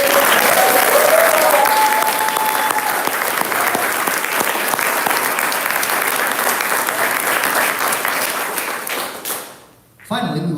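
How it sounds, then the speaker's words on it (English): An audience at a military promotion and awards ceremony gives a long, loud round of applause, dense steady clapping that tapers off at the end before a speaking voice resumes. "please give a round of applause for all of our promotees and award recipients"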